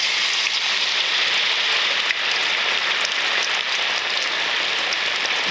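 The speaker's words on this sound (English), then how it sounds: "My oil is nice and hot. You can see that fizzing with my bamboo chopsticks. That tells me it's ready for frying." A pork chop frying in hot oil gives a steady, bright sizzle and crackle throughout, close and fairly loud with no break or talking.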